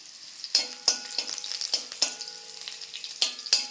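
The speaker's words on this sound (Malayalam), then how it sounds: "ഈ ചെറിയ ഉള്ളി ഒന്ന് മൂത്ത് കഴിയുമ്പം ഇതിലേക്ക് നമ്മൾ വറ്റൽ മുളകും ഇട്ട് കൊടുക്കണം" Shallots and dried red chilies frying in hot oil as a tempering, crackling steadily with repeated sharp scrapes and clinks of a ladle against the pan at a brisk, irregular rhythm.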